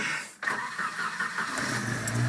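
A 1973 Volvo 142 engine cranks and catches on choke, firing up abruptly and settling into a steady, close, fast idle.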